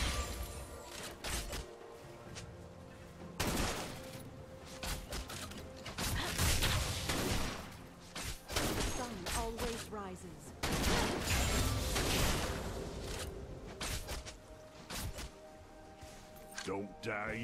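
Gunshots during League of Legends gameplay: a busy stretch of sharp firing bursts and impacts amid other combat effects, with a character's voice speaking over them.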